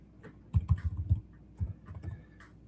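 Close, quick bursts of computer keyboard typing, a cluster of rapid clacks, a short pause, then a second flurry of keystrokes in a quiet room.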